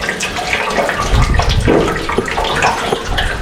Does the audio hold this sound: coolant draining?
yes